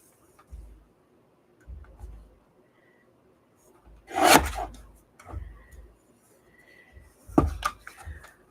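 A craft piece has its rough edges trimmed in several short cutting or rasping strokes, spaced irregularly and close by, with a couple of louder scraping bursts in quiet surroundings.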